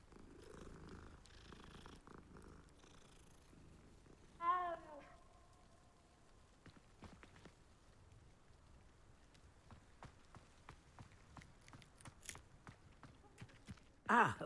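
A cat in a Hogwarts video game purrs softly in a quiet scene, with a short meow-like call early on and scattered faint clicks and footstep-like taps, ending in a brief louder burst.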